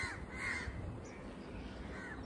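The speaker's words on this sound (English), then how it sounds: "I hope you can hear all the noise. There's our crows." Several crows caw harshly along a roadside in Malaysia, a few loud calls standing out over a low ambient outdoor background, with no talk.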